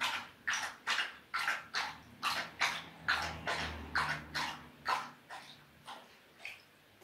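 A dog in a home makes a series of about a dozen short, evenly spaced sharp sounds, moderately close, with no talking.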